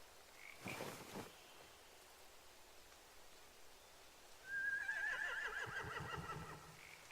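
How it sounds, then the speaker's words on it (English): Horses aboard a large boat in The Walking Dead game, with a snort early on and a later drawn-out whinny followed by low huffing, all fairly quiet against a soft ambient background. "They have horses."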